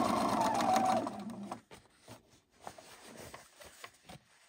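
Sewing machine hemming a pair of pants, a steady mechanical run in the first second and a half, then a few short stitching bursts and soft handling noises at low level.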